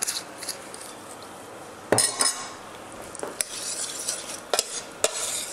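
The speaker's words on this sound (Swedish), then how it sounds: "Blandar vi om." A spoon stirs pasta pomodoro sauce in a pan, with scraping and a few sharp clinks of metal against the pan over a faint sizzle, close and without talk.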